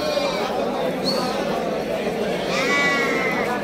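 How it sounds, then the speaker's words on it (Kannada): Lambs at a sheep market in Mandya bleat repeatedly, several high wavering calls close by, mixed with background chatter of people talking. "ಈ ಥರ ಮರಿಗಳಿಗೆ ಎಲ್ಲ ತಿಂಡಿ ಎಲ್ಲ ರೂಢಿ ಮಾಡೇ ಕೊಡೋದು ಕುರಿ ಮರಿ"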